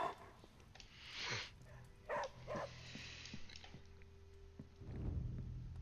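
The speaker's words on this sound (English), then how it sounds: "Pet the puppy." A puppy being petted in the video game Marvel's Midnight Suns, giving a few soft yips and whimpers and a brief bark, faint, with low game music underneath.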